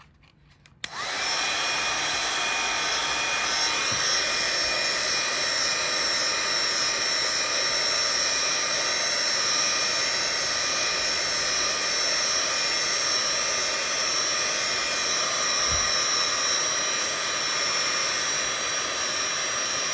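A heat tool blows hot air onto shrink plastic for a necklace charm. It switches on early and then holds a loud, steady, close whooshing hum without pause.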